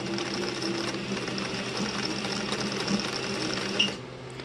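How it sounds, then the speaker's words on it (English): Sewing machine stitching baby rickrack trim onto a patchwork hoodie, a steady continuous whirring run at close range that holds even for about four seconds, then cuts off abruptly. "And that is how I sew on"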